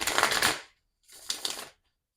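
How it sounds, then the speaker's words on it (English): Two brisk bursts of tarot cards being shuffled, riffling close up, separated by a short pause. "All right, one more shuffle."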